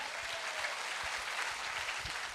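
Audience clapping at a motivational business gathering, a soft, continuous spread of applause heard from a distance, even and unbroken across the short stretch.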